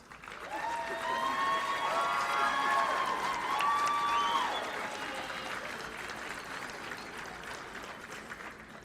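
A crowd claps and cheers for spring nursing graduates at a college graduation and pinning ceremony, loud, dense applause swelling over the first few seconds, with a brief shrill cheer or whistle, then settling into steadier, slightly softer clapping.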